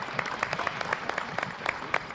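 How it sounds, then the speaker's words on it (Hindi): Audience applause for a judge at a stage event, a scattered round of clapping with distinct individual claps, moderately near and fairly light, with no talk over it. "एक बार जोरदार तालियां मोहनलाल जी के लिए"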